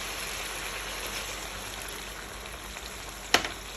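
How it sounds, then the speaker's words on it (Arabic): Chicken wings fry in a pan with a steady, hissing sizzle while garlic, lemon juice and white vinegar are tipped in, and one sharp clatter sounds near the end. "هلا بدي انزل الثوم والليمون والخل الابيض."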